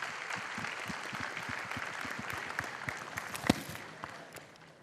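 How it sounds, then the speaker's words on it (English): Audience at a chartered accountancy student seminar in Ahmedabad applauds a session chairman, a steady wash of many hands clapping at moderate distance that holds evenly for several seconds, then begins to thin and fade toward the end. "please give a round of applause for CA Rakesh Aggarwal"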